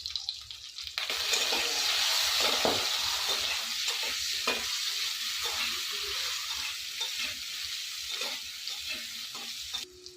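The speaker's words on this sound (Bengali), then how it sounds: "তেল গরম হয়ে গেছে এবার কেটে রাখা কাঁচা কলাগুলো ভেজে নিতে" Sliced raw green bananas fry in hot oil in a home kitchen, a loud continuous sizzle and crackle with occasional stirring scrapes, no talking.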